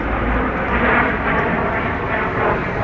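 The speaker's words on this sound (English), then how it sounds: "Actually, they're probably patrol planes." Patrol planes fly overhead in Tainan, a loud and steady engine roar filling the whole stretch without a break, close and continuous, no talking over it.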